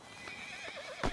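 Horse whinnying briefly in a stable setting, a wavering neigh over faint background ambience, ending with a short thump of hoof.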